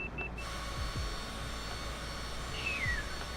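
Inside a Citation business jet in flight with the speed brakes deployed, a steady, dense cabin roar of engine and airflow fills the space, with faint tones and no talk.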